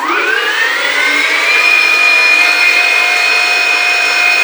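A hand-built custom cruiser e-bike motor winds up to full throttle, its whine rising in pitch over the first second or so and then holding a loud, steady high electric whir close by, with no talking.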